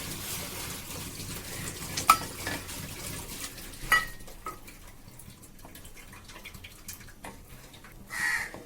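Metal utensil scraping and clinking against a pot of urad flour batter stirred into boiling water, irregular stirring knocks with a louder clatter near the end, no talking.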